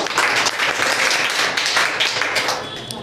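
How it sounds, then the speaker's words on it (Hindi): Students clap loudly for a teacher at a gathering about board exam results, a dense, close burst of applause that swells and slightly thins toward the end. "जोरदार ताली।"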